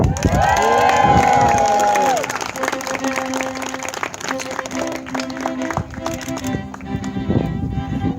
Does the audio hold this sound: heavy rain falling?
no